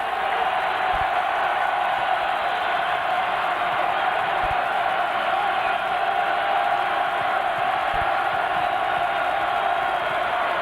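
A basketball arena crowd at a Notre Dame versus Pitt game keeps up a steady, loud roar, with occasional thumps beneath the continuous din.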